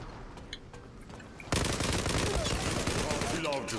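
Gunfire from the Zula video game breaks out in a dense, loud volley of rapid automatic shots that continues steadily after a quieter opening with a faint voice.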